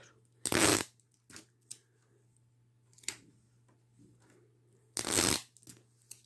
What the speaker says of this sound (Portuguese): Durex transparente. Você coloca de um lado e do outro.